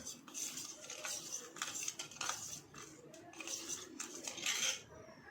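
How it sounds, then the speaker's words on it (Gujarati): A spoon stirring powder into cold milk in a steel vessel for homemade ice cream, producing quick close clinks and scrapes against the metal in an uneven rhythm, fairly faint and with no talk. "આ રીતે મિક્સ કરી દેવાનું આપણે પાવડરને ઠંડા દૂધમાં"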